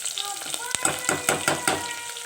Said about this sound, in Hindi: अब इसमें ऐड किया है मैंने हरी मिर्च। आपको इसकी आवाज़ आ रही होगी।